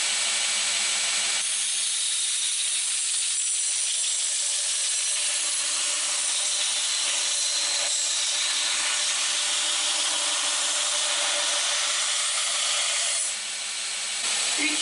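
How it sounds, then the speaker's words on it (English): Belt sander grinding a blade cut from a salvaged steel fence post, a steady loud abrasive roar that runs unbroken nearly the whole time, with no talking. "Each time we make a pass on the belt sander, we take a little bit more of this gray area in the middle out"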